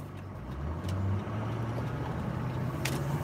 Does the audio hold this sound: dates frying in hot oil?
no